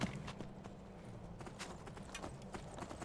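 Horse hooves clip-clop steadily in the fantasy game Skyrim, a close, rhythmic run of footfalls heard alone without talk.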